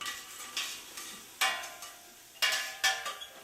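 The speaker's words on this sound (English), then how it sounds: "stir up the garlic" Garlic sizzles faintly in a pan on medium heat while being stirred, several short scraping bursts of spoon against pan over a quiet crackle, no talking.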